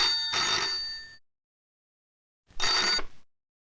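An old telephone bell rings in a 1989 Hindi film scene, two loud, buzzing ring bursts separated by a long silent gap.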